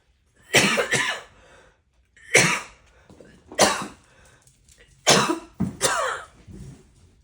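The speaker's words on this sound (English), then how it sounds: "I'm going to cough." Several harsh coughs come in short bursts, some in quick pairs, close and loud with silence between.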